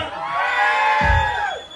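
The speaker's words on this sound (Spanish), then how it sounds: "Aplauso para la chica." A lively crowd at a mobile disco event cheers and whoops for a girl in red, with loud sustained shouting voices that swell and then fade.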